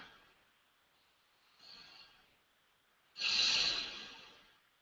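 Two slow breaths, a soft inhale followed by a longer, louder exhale that trails off, close and quiet with no talking.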